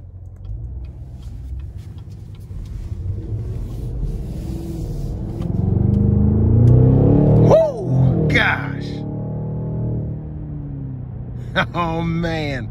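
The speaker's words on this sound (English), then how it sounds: "Here we go on our test drive of the 2020 Cadillac CT6-V." A 2020 Cadillac CT6-V sedan on a road test drive, its engine rumbling low and rising into a louder surge as it accelerates, with tire and road noise and someone talking over it.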